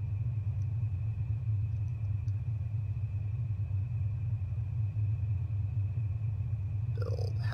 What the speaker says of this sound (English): In the meantime, we'll charge our jump drive up here a little bit.